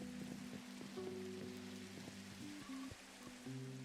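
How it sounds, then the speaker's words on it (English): Soft, steady rain hisses in a Minecraft world near a bathhouse build, quiet and continuous beneath gentle tonal background music. "it is really cozy when it rains here"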